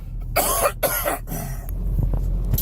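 A man coughs twice in quick, harsh bursts, close up, then gives a few softer throat sounds in an otherwise quiet room.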